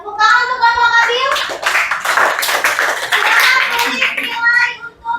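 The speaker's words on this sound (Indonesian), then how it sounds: "tepuk tangan untuk kelompok Abil" Students in a classroom clap for a presenting group, a brief burst of hand claps mixed with children's voices and chatter, fairly loud and close.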